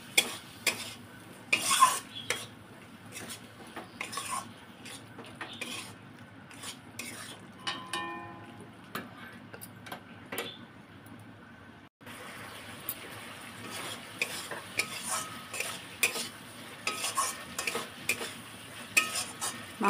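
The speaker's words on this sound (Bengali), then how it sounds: "মশলার সাথে ভালো করে কষিয়ে নেব।" Finely chopped chicken is stir-fried with spices in a pan, a soft sizzle running throughout beneath frequent quick scrapes and clinks of a stirring spoon, fairly faint, with a brief cut near the middle and no speech.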